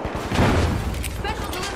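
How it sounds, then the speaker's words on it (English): A frag grenade detonates in The Finals on PS5, a loud rumbling blast with scattered crackling debris that spreads out over a second or two while a voice talks over it. "Frag grenade out!"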